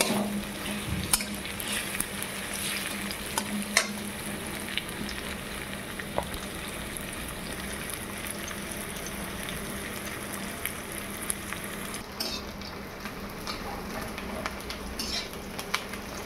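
Onions fry in a pan for an egg curry, giving a steady, fairly quiet sizzle throughout with occasional light scrapes and clinks of stirring.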